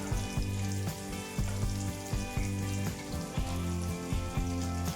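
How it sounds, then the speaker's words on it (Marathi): Soya vegetable cutlets frying in oil over a medium gas flame, giving a steady, close, crackling sizzle with faint bubbling throughout and gentle periodic swells, with no voices. "छान असे मीडियम गॅसवरती फ्राय करून घ्यायचे"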